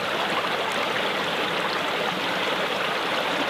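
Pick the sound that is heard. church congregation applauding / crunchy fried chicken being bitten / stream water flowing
stream water flowing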